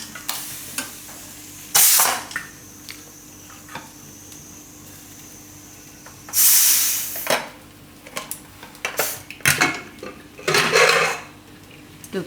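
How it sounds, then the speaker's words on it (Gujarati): A cooled pressure cooker holding boiled pigeon peas is opened, giving a few loud metal clatters and scrapes of lid and pot with quieter clinks between, close up and without voices. "ને કુકર આપણે ઠંડુ થઈ ગયું તો ખોલીને જોઈએ"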